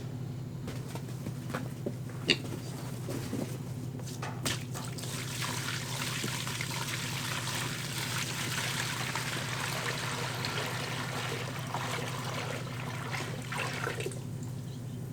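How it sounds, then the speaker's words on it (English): Water from a 5-gallon container is poured steadily into a big rectangular trough set out for pigs on a farm, a continuous gushing splash lasting many seconds. "I'm just gonna dump their 5-gallon water in this big rectangle water just for tonight"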